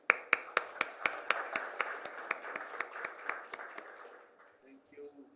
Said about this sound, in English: I ask that you keep the applause going